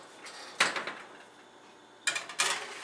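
A metal baking sheet of Parmesan-sprinkled mushroom toast cups slides into a home oven, with a clattering scrape near the start and another pair of knocks and rattles a moment later, close and fairly loud, no talking.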